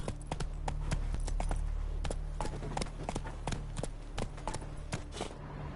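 Roach the horse galloping in a video game, a quick, steady run of hoof clip-clops over a low rumble, close and continuous throughout.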